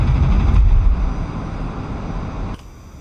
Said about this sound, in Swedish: Jag sitter ju bara i ett flygplan